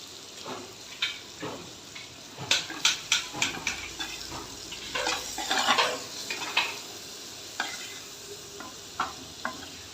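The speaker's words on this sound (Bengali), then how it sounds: "এটাতে আমি ইলিশ মাছই ভাজছি" Steady sizzling of salted hilsa fish frying in a pan, punctuated by repeated sharp clinks and scrapes of a utensil against the metal.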